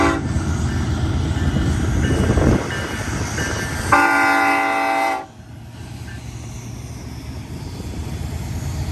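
A BNSF SD70ACE locomotive with its freight train passes at Cajon Summit, a loud, steady rumble joined by a long, blaring horn blast before the noise drops to a quieter, continuing roll.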